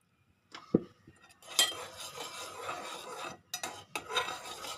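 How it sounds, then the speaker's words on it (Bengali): A spoon stirs tea in a cup, giving a sharp clink followed by close rasping, scraping strokes that rise and fall in short bursts. "চাটা একটু নেড়ে দিলে ভালো হয়"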